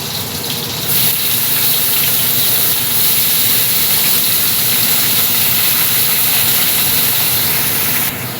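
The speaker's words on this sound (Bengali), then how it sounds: "তো চলুন আমি বেটে নিই, এটা মিক্সিতে ঢেলে নেবো" A kitchen mixer grinder runs steadily, grinding boiled potato with poppy seed paste, a loud continuous whirring roar starting just under a second in and holding evenly until it cuts off near the end.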